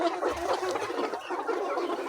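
Organically raised laying hens cluck in a short burst of close, overlapping chatter, busy and continuous.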